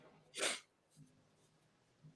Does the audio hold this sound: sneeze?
yes